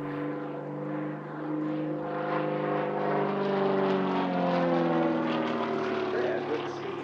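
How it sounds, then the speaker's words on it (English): A Global Stars aerobatic display aircraft drones steadily overhead at an airshow, its propeller engine tone rising and falling slightly as it passes, loud and continuous throughout. "This is one of the Global Stars aircraft."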